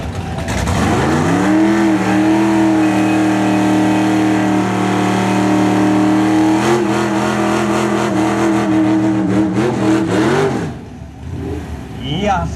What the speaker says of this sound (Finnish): Ja sieltä tulee kunnon burnoutti.